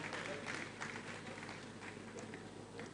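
Applause from an audience at a safety conference in Lagos as a speaker takes the podium: a steady, distant wash of clapping, faint and continuous throughout.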